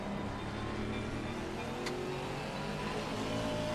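A McLaren race car in a sim racing game at Zandvoort during an online championship round, its engine droning steadily and loudly throughout, with a brief sharp tick partway through.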